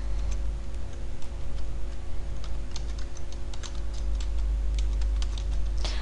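Someone types a name on a computer keyboard. The keystrokes are quick and irregular, clicking close by over a steady low hum, with no voice heard.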